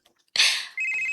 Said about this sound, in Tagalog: si Aryan ay nanawag